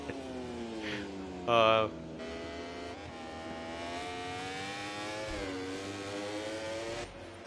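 A MotoGP bike in the Mugello race sim revs hard as the rider pops a wheelie over the finish line. The engine whine climbs and holds in pitch, and an excited commentator talks over it throughout.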